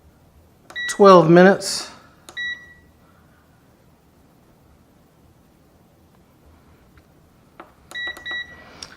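Sharp electronic beeps from the control panel of an ICOOKPOT pressure cooker as pressure cook is set, a short cluster of chirps near the start and another pair near the end, with a person speaking in between.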